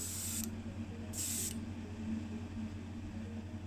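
Orange enamel paint is sprayed onto a small Majorette Dodge Simca model car in two short hissing bursts against a constant low background hum.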